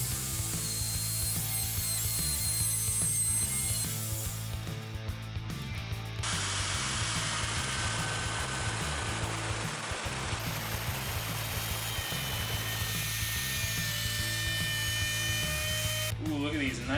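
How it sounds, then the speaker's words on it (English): Router fitted with a 1/4 inch round-over bit shaping the edges of a wooden bookshelf: a steady, loud high-pitched whine with cutting noise that shifts as it moves along the wood, continuous throughout. "So here I'm just using my router, and I think it's a 1/4 inch round over bit."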